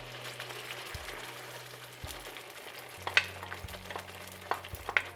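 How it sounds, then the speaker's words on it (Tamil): Ground chutney sizzles in hot oil in a pan as it is stirred quickly, a steady crackling fry with sharper spatters and scraping knocks of the spoon, close up and without talk. "சட்னி எண்ணெயில் ஊற்றின உடனே நல்லா வேகமாக மிக்ஸ் பண்ணிகிட்டே இருங்க, இல்லைனா ரொம்ப தெறிக்க ஆரம்பிச்சிடும்."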